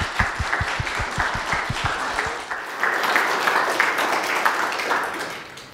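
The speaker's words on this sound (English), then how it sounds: "Please join me in giving a round of applause" An audience at a mathematics colloquium breaks into applause for an invited speaker, starting with a few distinct claps that swell into a sustained, fuller round.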